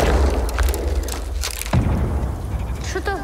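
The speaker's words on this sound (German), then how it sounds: "Oh, Schüsse. Aber es dröhnt so." Low, rumbling booms of gunfire roll in from a distance, dull and continuous beneath a noisy background, with a faint voice near the end.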